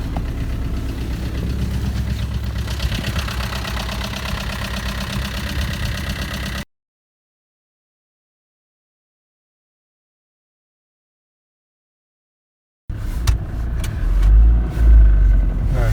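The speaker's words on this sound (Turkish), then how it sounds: "arabayı biraz ısıttıktan sonra" A car engine idles while warming up on a snowy winter day in Erzurum. The steady, loud mechanical rumble runs for several seconds, cuts to complete silence, then returns with some louder thumps near the end.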